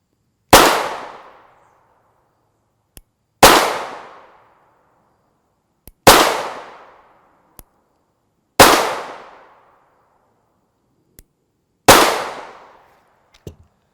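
Five sharp 9x19mm pistol shots firing G9 Defense 80-grain external hollow point rounds, evenly spaced about three seconds apart, each a loud crack with a decaying ring, and faint clicks between them; no talking.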